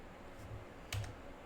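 Quiet typing on a computer keyboard during housekeeping at a desk, with a few soft scattered clicks and one short cluster of keystrokes near the microphone.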